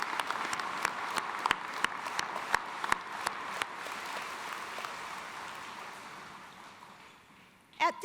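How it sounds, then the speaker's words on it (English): An audience applauds one another at a university commencement ceremony, heard as dense continuous clapping with a few loud close claps that gradually fades away, followed by a brief sound at the very end. "Let's have a round of applause for each other."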